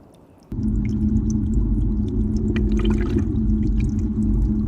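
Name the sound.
water running over window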